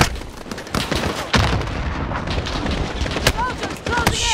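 Missile strikes and explosions in Call of Duty Modern Warfare boom in quick succession, loud close blasts and sharp cracks of gunfire layered over a continuous rumbling battle din.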